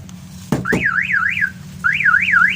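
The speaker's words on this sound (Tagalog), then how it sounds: "Mitsubishi Montero installation car alarm" Two sharp chirps, then a Mitsubishi Montero car alarm siren warbles up and down in a rapid wailing pattern, pauses briefly, and resumes, loud and close.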